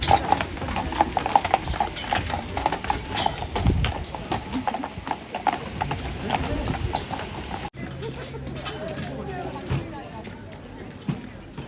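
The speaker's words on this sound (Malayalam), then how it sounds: "ഇതൊക്കെ കണ്ടോ കുതിരവണ്ടിയും കാര്യങ്ങളൊക്കെ പോകുന്നത്." A horse-drawn carriage passes through a German village street near a castle, its hooves clip-clopping steadily and fairly close, with someone talking over the rhythmic clatter.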